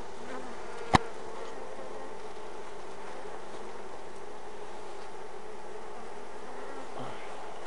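Honey bees buzz steadily around an open beehive brood box, a close, continuous hum, broken once by a single sharp click near the start.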